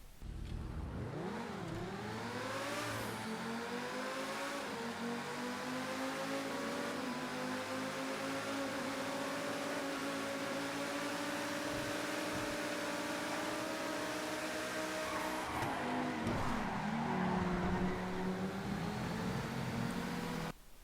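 A car engine in the GTA V racing game revs up and climbs in pitch, then drops sharply at each quick manual gear shift, sounding loud and continuous throughout with no talking.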